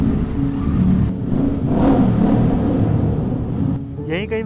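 A motorbike rides through a tunnel in rural Japan, its engine rumbling and whirring loudly with a wide, echoing wash of road noise that stays steady, while someone talks briefly near the end.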